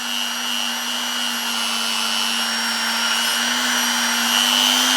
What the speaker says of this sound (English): This is the lightest grade of Scotch-Brite wheel I've got